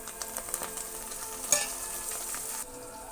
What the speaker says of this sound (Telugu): ఇవి మొత్తం ఎర్రగా వచ్చేంత వరకు వేపుకోవాలి ఆనియన్స్